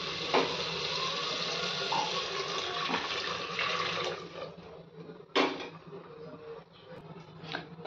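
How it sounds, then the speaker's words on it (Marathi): Water comes to a boil in a pot of masoor pulao, a steady rushing bubble that drops lower partway through, broken by a few sharp clinks. "पाण्याला छान उकळी आली"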